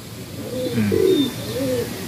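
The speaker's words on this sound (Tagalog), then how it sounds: "Ayun yung mga ibon natin mga kalapatids. So, ayan sila." Pigeons coo softly nearby, a few low throaty burbling calls over a faint background hum.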